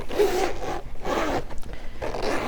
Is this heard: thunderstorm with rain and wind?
no